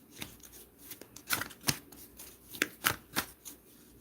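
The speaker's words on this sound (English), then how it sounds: "All right, Mel, I'm shuffling you now." A deck of playing cards being shuffled up close, with a run of crisp, papery riffles and snaps in uneven bursts and no talking.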